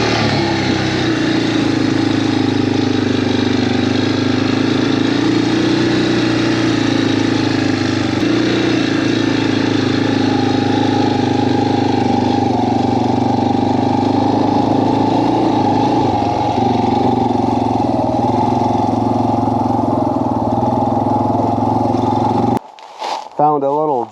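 An ATV engine drones steadily while riding through a valley, a loud, continuous mid-pitched hum with slight swells, cutting off abruptly near the end.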